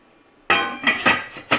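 A lid set onto a pot of chili left at a gentle simmer, one sharp metallic clank followed by a few lighter rattling clinks as it settles, close and loud.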